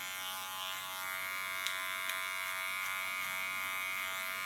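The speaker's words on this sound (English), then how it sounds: "The sideburns I do with a small clipper." Small electric hair clipper trimming sideburns during a women's asymmetric bob haircut, a steady close, high-pitched motor buzz running throughout with a couple of faint clicks.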